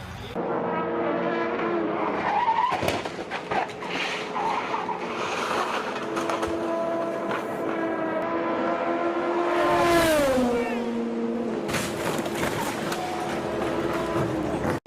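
Race cars roar and rev through a crash sequence, with engine whines, pitch sweeps and bursts of impact and scraping noise, loud and continuous, mixed with broadcast commentary.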